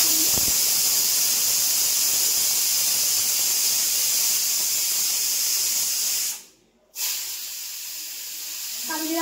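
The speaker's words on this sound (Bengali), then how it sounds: "একটু কালো জিরা ফোড়ন দেব" Nigella seeds temper in hot oil for a pumpkin and potato dish, giving a steady, loud hissing sizzle that drops out briefly near the end before resuming, with no talking.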